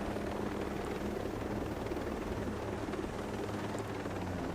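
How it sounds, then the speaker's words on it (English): An enemy helicopter in Ghost Recon Breakpoint gives a steady, loud rotor roar and engine drone that fills the whole stretch without a break. "Oh, there's an enemy helicopter."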